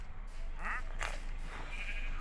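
A few short, wavering bleats from a llama in Minecraft, faint and close together, over a steady background hum.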